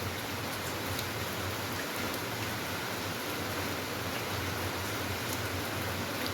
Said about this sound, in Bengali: আজকে সকাল থেকেই বৃষ্টি হচ্ছে।